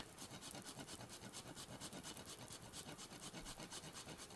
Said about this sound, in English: Some freshly grated nutmeg.